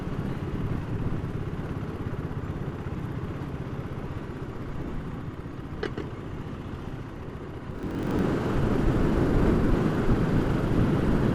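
A BSA Gold Star 650 motorcycle being ridden on bends, its engine a steady, continuous drone with wind rush that swells louder near the end as the bike accelerates.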